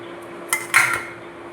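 A knife cuts through peeled brinjal on a board, making two short clicking knocks close by over a low steady hum.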